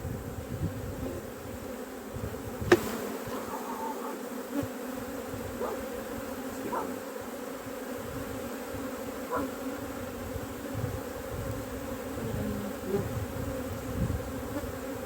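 Steady buzzing of many honeybees around a hive fills the air continuously, a dense close hum with a few faint knocks and clicks, no talking.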